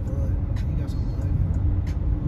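Highway traffic rushes past steadily, a dense low roar of cars and heavier vehicles with a few brief higher hisses, heard up close from the roadside.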